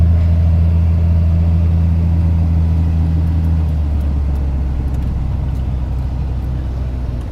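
A 1993 Dodge W250 truck cruising, its engine giving a loud, steady low drone from inside the cab, the rumble holding even throughout with no talking.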